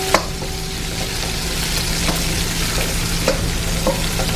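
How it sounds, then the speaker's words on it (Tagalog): Ingredients such as onion are stirred and sautéed in a pan for laing, giving a steady sizzle with a few sharp scrapes and taps of the utensil, alone and close. "halu-haluin lang natin at igisa na natin yung ating mga sangkap tulad ng ating sibuyas"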